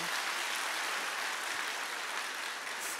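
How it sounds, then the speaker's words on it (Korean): A seminar audience claps for early members in a steady, even wash of applause that fills the short stretch at moderate, slightly distant level. "우리 박수 한번 쳐주세요"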